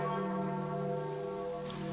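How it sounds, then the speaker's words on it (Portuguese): Large church bells of St. Peter's Basilica in Rome toll for the death of the Pope, a steady sustained ringing hum with layered overtones that stays continuous and moderately loud throughout. "os sinos da Basílica anunciaram para Roma a morte do pontífice"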